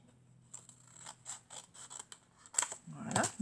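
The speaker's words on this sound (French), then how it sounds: "donc là, je vais couper ici" Scissors cutting through paper card for a vintage junk journal, a close series of rhythmic crisp snips that grow louder and rougher toward the end, with faint speech in the background.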